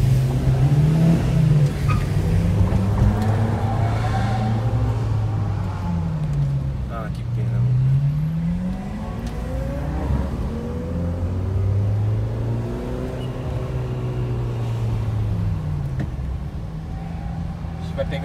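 A Porsche GT3 RS sports car drives through São Paulo streets, its engine note rising and falling in repeated revving sweeps, heard close and steady beneath people talking throughout.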